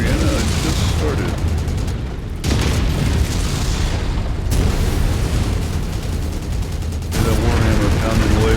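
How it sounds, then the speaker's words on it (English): A BattleTech Warhammer mech pounds away with machine guns in a video game, dense booming bursts of rapid fire in loud sustained volleys broken by brief gaps. "That Warhammer pounding away with his machine guns"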